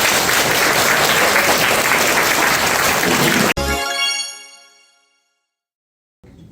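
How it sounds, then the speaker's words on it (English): A school academy olympiad audience applauds speakers with loud, sustained clapping that fills the room, then breaks off abruptly into a ringing tail that fades to silence before a brief return of noise. "Let's applaud all speakers for their efforts."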